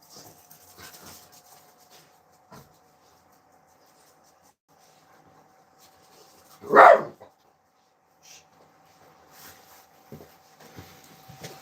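A single short burst of dog barking around the middle, loud against a quiet background with faint scattered noises, as dogs are let outside.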